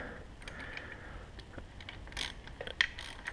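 An 8mm bolt being refitted on a dirt bike gear shifter, heard as faint close ratchet clicks and small metallic taps in short bursts against a quiet garage background.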